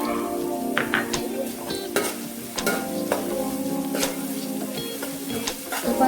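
Sliced onions with a little salt sautéing in a pan while making Kerala-style botti (tripe) fry, a steady close sizzle with repeated spatula scrapes and stirring knocks throughout, no talking.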